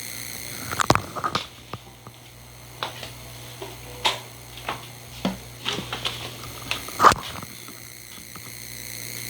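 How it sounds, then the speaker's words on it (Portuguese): An electric fan runs close to a microphone, giving a steady low hum with a faint continuous whir. Irregular small ticks and clicks sound throughout, and no voices are heard. "É o ventilador."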